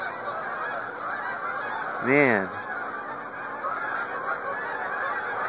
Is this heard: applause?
no